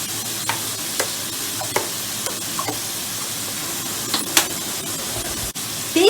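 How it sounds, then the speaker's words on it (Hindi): Spices fry in a pan with chili sauce and lemon juice for Thai coconut curry noodle soup. A continuous, fairly loud sizzle runs under scattered scraping strokes from stirring. "तीस सेकंड के लिए इसको मसाले को भी भून लेंगे।"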